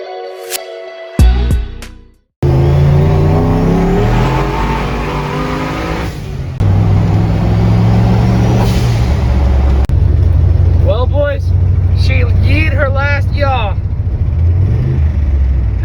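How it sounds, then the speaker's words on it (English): A turbocharged LS V8 swapped into a K10 truck runs loud and close with a possible knock or valve-train clatter, the engine droning steadily and revving while a voice talks over it. "I don't know if it's knocking or the valve train"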